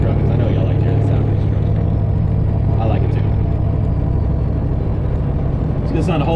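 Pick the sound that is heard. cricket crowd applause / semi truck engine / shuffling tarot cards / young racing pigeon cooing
semi truck engine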